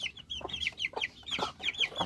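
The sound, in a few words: chicks clucking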